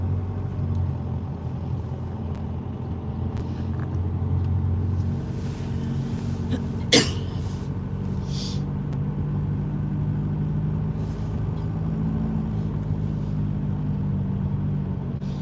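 Car driving through Gatlinburg in Tennessee's Smoky Mountains: a steady low engine and road rumble carries on throughout, with a brief sharp knock partway and faint scattered sounds above.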